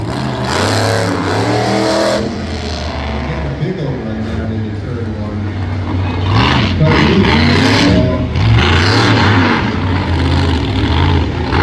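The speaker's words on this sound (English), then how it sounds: "Just gotta love listening to those open headers" A monster truck engine with open headers at a motorsports show revs hard, its loud, rough roar rising and falling in repeated surges of acceleration close by.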